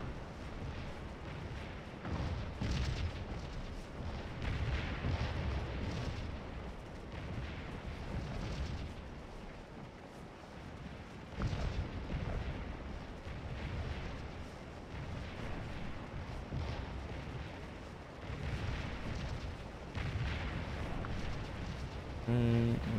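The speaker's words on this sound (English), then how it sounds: "Yeah, that's a lot of artillery." Artillery booms roll almost without a break across a Civil War battlefield at Antietam in the strategy game Scourge of War, forming a dense, rumbling barrage of distant and nearer blasts.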